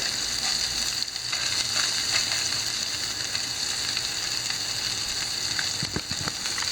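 Bluefish fillets frying in a non-stick pan give off a steady, bright sizzle close by, with a few small pops and light scrapes near the end.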